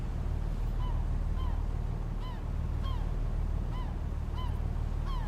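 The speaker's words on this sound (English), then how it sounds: "Now you hear them birds." Seabirds call repeatedly over steady ocean wind and water noise on the Kaiji No Ri Ocean fishing spot in Japan in the game Fishing Planet, short rising honk-like cries spaced roughly every half second, mid-distance, with no talking.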